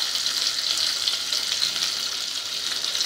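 Curry leaves sizzle and sauté in hot oil for a kokam Gujarati dal, giving a steady, close, bright crackling hiss with no voices.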